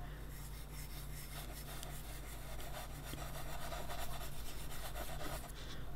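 A super soft Unison pastel rubbed across paper, recorded close up: a continuous dry scratchy rasp with steady strokes and slight grainy variations, plus a low background hum, no talk.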